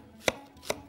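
Two separate knife chops cut through an onion against a cutting board, each a crisp, close thud with a short sharp attack, spaced a little under half a second apart, with no voices.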